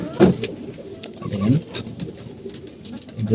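Domestic pigeons coo in a few soft, low bursts nearby while a person talks.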